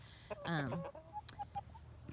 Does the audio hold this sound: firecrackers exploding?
no